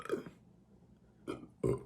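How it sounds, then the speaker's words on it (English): Burps after drinking Flamin' Hot Mountain Dew from a can, three short, close, fairly quiet eructations, the last one the strongest, with near silence between them. "Let me get this burp out real quick."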